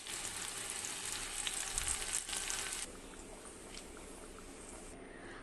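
Sliced shallots and a sprig of curry leaves sizzle steadily in hot oil, tempering a potato and prawn curry; the hiss is strong at first and then settles to a softer, even crackle.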